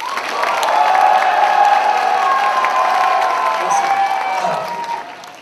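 A large congregation at a youth retreat evening worship service claps and cheers together, whoops and children's shouts rising over broad applause that swells, holds and fades near the end.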